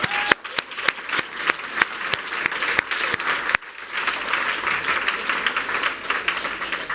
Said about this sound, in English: can we please just give one more round of applause?